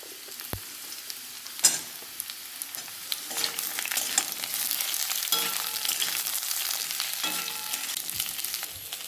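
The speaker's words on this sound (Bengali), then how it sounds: "তো আলুটা ভাজা হয়ে গেছে, আমি এবার বেগুনগুলো দিয়ে দেবো।" Eggplant pieces frying in hot oil in a pan after potatoes, giving a continuous close sizzle with occasional clacks and scrapes of a spatula stirring.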